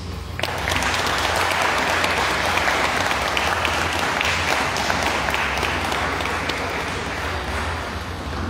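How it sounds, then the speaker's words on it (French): Audience applause after a conference talk on charity and priestly fraternity, dense and close, sustained clapping from a large group that stays loud and even throughout. "Nous remercions davantage Padre Stéphane par nos applaudissements, s'il vous plaît."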